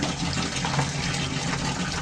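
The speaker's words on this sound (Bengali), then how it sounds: "পানি দিছি" Water poured into a cooking pot holding bottle gourd, salt and turmeric for a vegetable fry, a steady broadband gush filling the whole short stretch at close range, with no talk.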